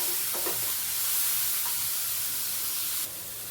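Pepper and garlic fry in oil in a pan while being stirred toward crispness, a steady close sizzle with a few scraping stirs, the hiss dropping slightly near the end.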